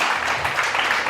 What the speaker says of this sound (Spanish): Dale un fuerte aplauso al Señor por esto.